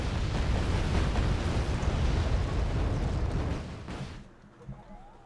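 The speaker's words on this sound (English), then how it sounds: "Rockets again." Rocket artillery barrages pound on in Wargame: Red Dragon, a loud continuous roar of explosions that fades away over the last second.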